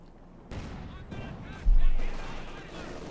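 A World War II tank fires its main gun in Company of Heroes 2, a heavy boom with a rumbling tail, preceded by a lighter crack of battlefield fire amid continuous background din.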